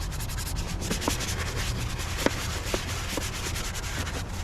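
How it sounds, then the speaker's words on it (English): A cloth wipes spray cleaner across plastic trim in a car engine bay, giving a soft, steady rubbing and scrubbing texture that stays faint throughout with no voices. "Just give it a little spray, a little wipe, and it leaves it looking a little wet"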